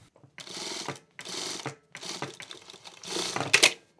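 A sewing machine stitching the sides of a hoodie in four short bursts of rapid mechanical whirring separated by brief pauses, close and clear.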